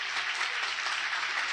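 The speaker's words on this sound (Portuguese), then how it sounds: "Aplauda bem forte ao Senhor." A church audience claps steadily through the whole stretch, a dense and loud wash of applause with no pauses and no distinct voices above it.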